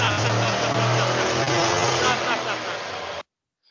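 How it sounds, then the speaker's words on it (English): A car engine runs with knocking from a wrong firing order or detonation, a loud, steady mechanical rumble lasting about three seconds before cutting off abruptly. "this is the knocking sound that actually is produced by the engine because of the wrong firing order or because of the blast or the detonation"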